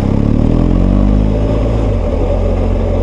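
BMW R1250GS motorcycle engine pulling smoothly under acceleration, a steady loud rumble with layered low harmonics that holds evenly throughout, with no voices over it.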